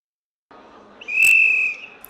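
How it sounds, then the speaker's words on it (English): A single clear whistle sounds in a simulation game to mark that a week has passed. It rises over a brief rush of noise, holds steady for under a second, then cuts off. "The sound of that whistle indicated a week had passed"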